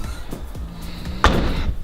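A 2015 Mercedes-Benz A45 AMG's rear hatch swings down and shuts with one solid thump, preceded by faint shuffling and creaks, in a quiet outdoor setting.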